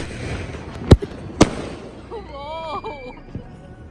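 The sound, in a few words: firecrackers being lit for Diwali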